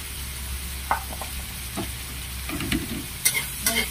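Green beans are stirred into a hot wok with clam meat in oyster sauce, giving a steady sizzle with a few scraping spatula strokes and metallic clinks toward the end, close and alone.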